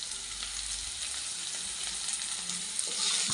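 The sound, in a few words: spices and turmeric frying for brinjal gojju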